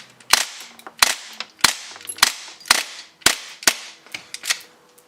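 A full-auto BB gun fitted with a Knuckles Customs BBU fires while feeding poorly: nine sharp, loud, close snaps in an uneven stuttering rhythm, each with a brief ringing tail, with no talking.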